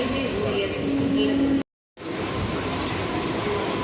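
A train pulls into Basin Bridge Junction station with a steady rolling rumble, a brief cut to silence midway, and a voice talking over the noise.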